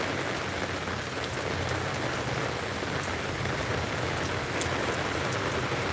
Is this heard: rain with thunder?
yes